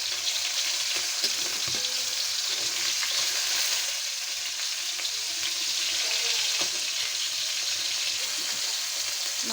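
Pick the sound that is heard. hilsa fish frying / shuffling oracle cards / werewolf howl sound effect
hilsa fish frying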